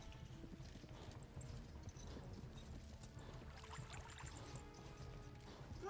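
Galloping horse hooves in the medieval video game Kingdom Come: Deliverance, a quick steady clip-clop rhythm at moderate distance, fairly quiet, with faint background game ambience and no talking.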